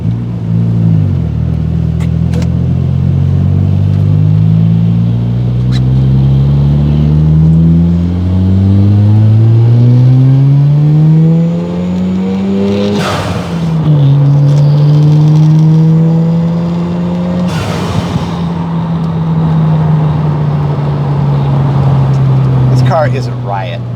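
A 1987 Mazda RX7 FC with sensor issues drives with its engine revving loud and close. The whine climbs steadily in pitch, drops at a gear change, climbs again, then settles into a sustained cruise drone.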